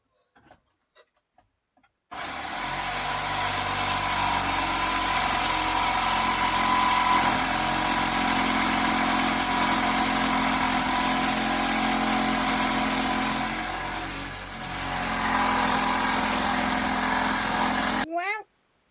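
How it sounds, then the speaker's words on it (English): A jigsaw cuts a sink hole through a galley counter aboard a Carver 3207 boat, running loud and steady for about sixteen seconds with a brief dip midway, then stopping abruptly. "Why can't you use a jigsaw?"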